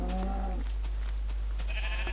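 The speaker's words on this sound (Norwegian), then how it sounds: "Er det en svart sau? Er det svarte fåret?" A black sheep in the video game Minecraft gives a short, clear bleat at the start, followed by a steady low hum and a second, higher and fainter bleat near the end.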